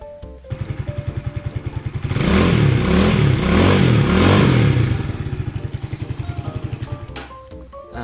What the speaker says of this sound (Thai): มาฟังเสียงท่อกันเลย